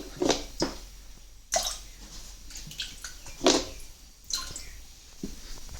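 Liquid cattle tick medicine splashes and gurgles as it is mixed into a half-filled sprayer pump tank of water, heard in several wet bursts with quieter dripping between them.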